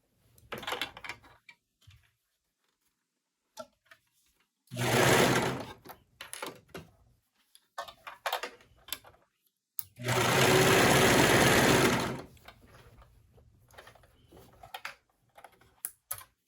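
A sewing machine stitches along the edge of stretchy leggings fabric in two sustained bursts of rapid, close mechanical whirring, separated by quieter handling clicks and pauses.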